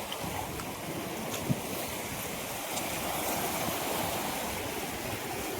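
Steady rushing of sea waves at a rocky shore, with wind buffeting the microphone, a continuous broad wash of surf and no voices.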